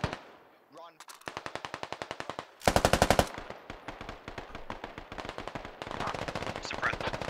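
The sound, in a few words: machine gun firefight in a video game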